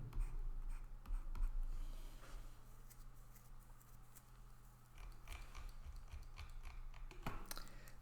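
Marker or chalk writing on a board during a lecture, soft scratchy strokes in short bursts over a quiet room hum, with no talking.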